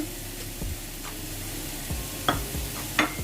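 Onions sizzle in a pot on the stove for mutton pulao, a soft steady frying hiss broken by a few sharp knocks and clinks of a utensil against the pot.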